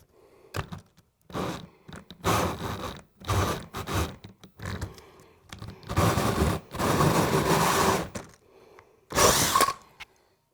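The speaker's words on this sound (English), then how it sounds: "now I'm ready to drill my hole through the sheetrock" Power drill boring a hole through sheetrock for a mini-split indoor unit install, loud bursts of whirring starting and stopping in irregular spurts, close by.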